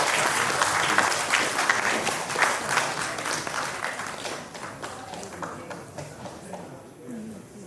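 Audience applause for young entrepreneurs at a conference, a steady, full round of clapping that slowly fades toward the end.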